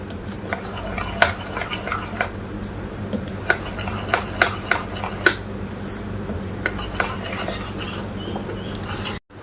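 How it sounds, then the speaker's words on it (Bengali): A spoon stirs semolina cake batter with baking powder and soda, scraping steadily against a bowl with repeated sharp clinks throughout and a low hum beneath, with no talking. "বেকিং পাউডার আর সোডা দিয়ে ভালো করে মিশিয়ে নেব"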